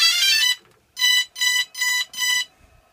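A DJI Phantom Vision drone transmitter beeps loudly and close: one long electronic tone, then four short, evenly spaced beeps, with nothing else behind them.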